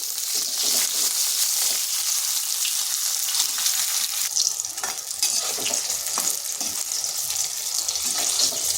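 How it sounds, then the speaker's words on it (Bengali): Eggplant frying in oil in a pan makes a continuous, close sizzle and crackle, steady and fairly loud throughout with small popping bursts. "বেগুনগুলো ভেজে নিচ্ছি।"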